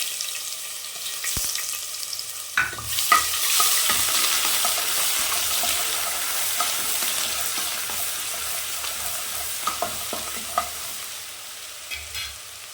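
Ginger garlic paste frying in oil with mustard seeds, urad dal and curry leaves for mutton gravy, a steady sizzle broken by repeated spatula scrapes and taps against the pan, no talking.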